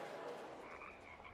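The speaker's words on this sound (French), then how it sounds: "les grenouilles coassent le soir pour annoncer les concerts" Frogs croak together in a steady, dense evening chorus, loud and continuous throughout with no voices.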